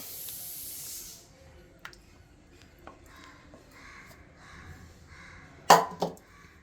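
Fresh curry leaves hit hot oil for puliyodharai tamarind rice, giving a loud, close sizzling hiss that fades after about a second, then faint pan noise and a sharp spitting crackle near the end.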